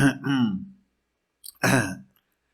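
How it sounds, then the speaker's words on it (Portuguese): A short throat clearing, a rough guttural burst followed after a pause by a second raspy clearing, close and fairly loud. "Pigarrei"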